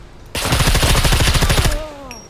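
Rapid automatic gunfire in the survival game SCUM during a PvP fight: a loud, fast burst of closely spaced shots lasting over a second, then stopping, followed by faint tonal ringing.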